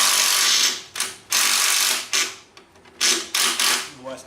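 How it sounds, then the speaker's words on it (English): A ratchet fitted with a 17mm socket spins out a rear suspension bolt, giving loud bursts of fast clicking in several separate runs with short pauses between them. "Let me get a 17mm socket here, and what helps sometimes is just kind of taking the bolt and running it out."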